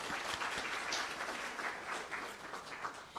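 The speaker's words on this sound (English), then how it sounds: "shall we give them a round of applause?" An audience at an award ceremony applauds sponsors, a sustained wash of many hands clapping from a moderate distance.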